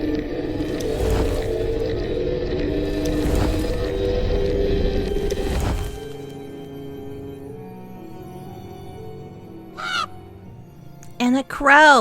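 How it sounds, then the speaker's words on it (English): A crow caws in the game Save the Villainess: a loud harsh call, then a second sharp caw near the end, following a stretch of dense ambient sound and a quieter pause. "And a crow."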